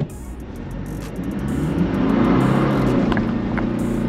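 A Toyota 70 series 4WD pulls away in low range second gear, its engine note rising smoothly into a steady, loud drone with no gear clunk.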